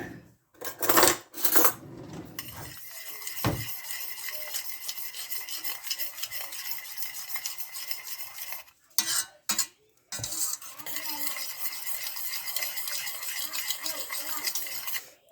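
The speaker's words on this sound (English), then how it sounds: "Give it a stir." A spoon scraping and stirring parsley and salt into melted butter with garlic in a pan, a steady close rasping swirl broken by brief pauses and a few clinks against the pan.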